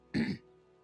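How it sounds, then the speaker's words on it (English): A single gruff throat clear from the character Griff in the video game Divinity: Original Sin 2, one short rough burst lasting under half a second, close and clear, followed by quiet. "I only hear the sound of Griff clearing his throat."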